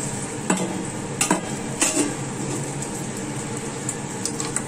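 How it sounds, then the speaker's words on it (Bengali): Spices are stir-fried in hot oil, giving a steady sizzle broken by several sharp metallic scrapes of a spoon against the pan in the first two seconds. Lighter clinks follow toward the end. "তেলটা গরম হলে মশলাটা দিয়ে কষিয়ে নেব"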